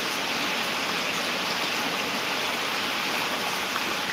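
Heavy monsoon rain pouring in Nashik district, a steady, dense, unbroken hiss throughout with no talk.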